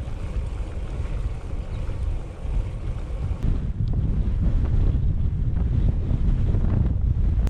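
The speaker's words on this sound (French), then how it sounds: "Un vent de sud-est avec des rafales." Strong, gusty south-easterly wind roars across a cyclist on a long ultra-distance ride, a loud, continuous rumbling buffet that surges heavier partway through and stays with no voices.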